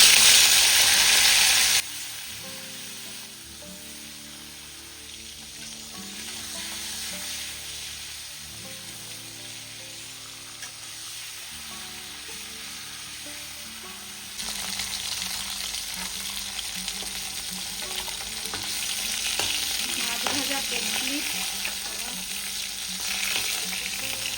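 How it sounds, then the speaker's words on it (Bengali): Fish sizzles loudly in hot oil in a wok, a sharp hiss at first that settles into steady crackling frying, growing busier again later on, with no voices. "তেল গরম হয়ে গেছে এবার মাছটা"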